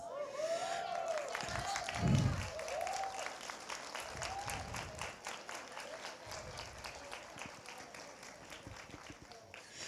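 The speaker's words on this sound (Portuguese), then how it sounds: "Eu ia dizer, vamos dar uma salva de palmas." Audience at a church women's event applauding steadily throughout, a sustained wash of many hands clapping in a hall, with a few voices calling out over it.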